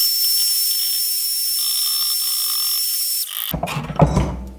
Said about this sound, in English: I just broke my clamp.